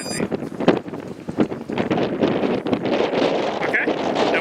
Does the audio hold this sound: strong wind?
yes